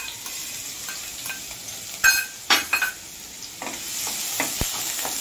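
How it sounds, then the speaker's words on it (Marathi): Chopped onion dropped into hot oil for a prawn masala gravy, giving a steady sizzle with a few sharp clinks and stirring scrapes of a utensil against the pan partway through. "आता आपण हा कांदा या तेलात घालायचा आहे."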